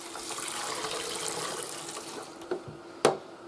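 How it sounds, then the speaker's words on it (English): Cleaning solution pours into the solution tank of a VAX 6131T Multivax wet and dry vacuum, a steady close trickle of liquid ending in a couple of sharp plastic knocks. "Simply what you do is pour it into the solution tank."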